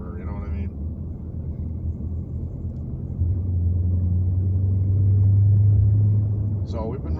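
A muscle car engine rumbles steadily at close range, its low drone swelling and growing louder partway through as it is pushed into harder acceleration, with someone talking over it at the start and end.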